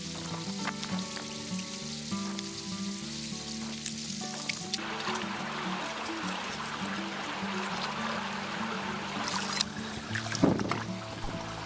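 Stream water runs steadily over bedrock at a Dayton, Nevada gold prospecting site, a continuous close wash of trickling with a brief louder splash near the end.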